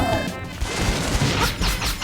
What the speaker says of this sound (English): If you head right in front of a wall, he's going to charge and hit the wall